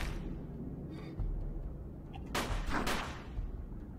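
Enemy gunfire in the tactical game UFO: Afterlight, a couple of broad bursts of shots at mid distance over a steady low rumble of background ambience.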